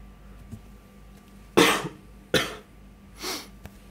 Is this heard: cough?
yes